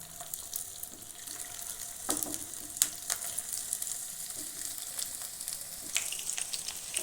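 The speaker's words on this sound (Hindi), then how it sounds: "चलिए अब हम फ्राई कर लेते हैं टिक्की को।" Tikki frying in hot oil makes a steady close crackling sizzle, with scattered clicks and a couple of louder spoon taps as oil is spooned over.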